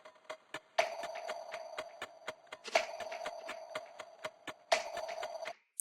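Chorus drums from an electronic music production: a steady run of tight, clicky hits under a sustained synth layer, with a heavier accent about every two seconds. The sound is loud and even, with no voices.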